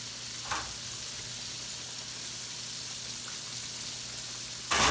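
Pig feet frying in a pan, a steady close crackling sizzle that runs continuously, with a brief louder clatter at the start and another near the end.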